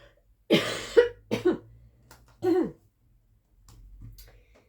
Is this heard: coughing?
yes